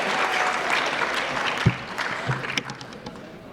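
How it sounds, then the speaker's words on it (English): Audience at a high school fall sports awards night breaks into applause, a broad even patter of clapping with a couple of louder nearby claps and thumps toward the end as it thins out. "we can clap."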